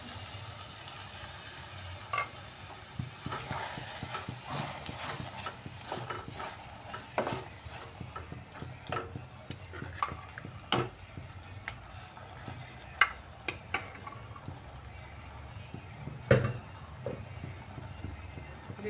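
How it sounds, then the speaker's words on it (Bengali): Boiled lentils cooking in a pan for spinach dal tadka, a steady low simmer and sizzle with scattered clinks and stirring taps throughout, fairly quiet with no talk. "এভাবে সিদ্ধ করে রাখা ডালটা দিয়ে দিচ্ছি।"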